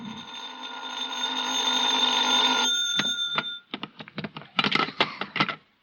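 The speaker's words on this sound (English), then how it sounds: "I was still in bed when the phone rang." An old telephone bell rings in a long continuous metallic trill lasting nearly three seconds, followed by a rattle of short clicks and knocks as the receiver is picked up, heard as part of an old-time radio drama.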